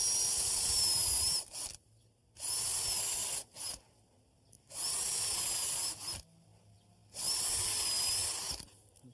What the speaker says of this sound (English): I'm going to simply drill a counter bore.